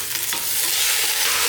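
Rice is stirred and fried in a biryani pan over medium flame, giving a steady, close hiss and sizzle with faint scraping from the stirring and no voices.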